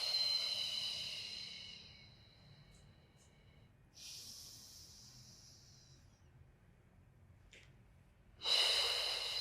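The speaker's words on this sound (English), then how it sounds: "We inhale through the nose, we exhale through the mouth, working on our diaphragmatic breath." Diaphragmatic breaths during beginner pre-Pilates exercises: an audible airy inhale through the nose, a quiet stretch, then another breathy exhale, with a strong, close breath at the end.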